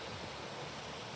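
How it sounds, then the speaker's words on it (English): A small waterfall on an offshoot of the Yellowstone River near Billings, Montana, rushing in a steady broadband roar that fills the short moment with no voices over it. "little waterfall area here."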